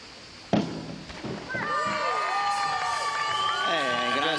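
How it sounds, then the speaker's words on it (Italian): After a diver's final 1.5-somersault pike dive at an Italian summer championship, a sudden burst of crowd noise swells into sustained cheering and whoops from an arena audience, with shouting voices and some commentary layered in. "Grandi applausi, sì."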